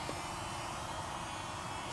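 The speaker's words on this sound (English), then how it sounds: "all right, so I got my drone" A camera drone flying outdoors on a dirt trail, its steady buzzing whir of small propellers holding constant and fairly faint throughout, alone without talk.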